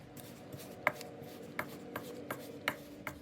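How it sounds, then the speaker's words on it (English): A spatula stirs a yeast mixture into a well of flour for pizza dough, making soft scraping strokes with a series of faint taps against the bowl at a loose, uneven rhythm. "then we will be stirring it with the spatula"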